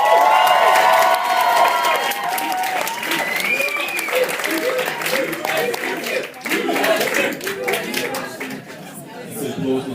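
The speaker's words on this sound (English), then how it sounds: "Let's give a round of applause for the affirmative team" A debating audience at the Australs 2013 semifinal claps loudly for the affirmative team, Sydney 2. Dense applause fades gradually, with voices and crowd chatter mixed in.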